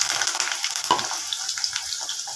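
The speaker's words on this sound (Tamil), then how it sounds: "பச்சை மிளகா, வெங்காயம், கருவேப்பிலை நல்லா வதங்கிடுச்சு." Green chili, onion and curry leaves sauté in hot oil in a pan, with a steady close sizzle and faint crackles throughout.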